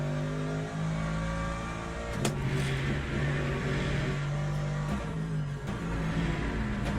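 A race car in Gran Turismo 7 drives an out lap with a steady, loud engine drone that holds even pitch, with brief shifts and bumps over constant game noise.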